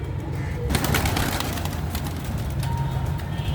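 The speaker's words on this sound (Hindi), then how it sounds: "बादल, हवा और परिंदों की गुड़गुड़" Pigeons or doves coo outdoors over a constant wash of wind, the soft repeated calls fairly near, with a brief gust-like burst early on.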